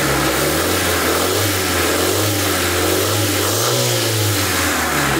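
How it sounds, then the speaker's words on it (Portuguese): A 1999 Honda Civic engine revs steadily up close, a continuous mid-low drone with the hiss and ticking of an exhaust manifold leak layered over it, with no voices. "E tem o barulho aqui de vazamento no coletor de escape."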